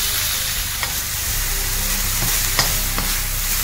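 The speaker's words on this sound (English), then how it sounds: "and I'm gonna add my sauce to it." Beef sizzles steadily in a frying pan with sauce just added, a loud, continuous hiss close by with a few brief clinks of stirring and no voices.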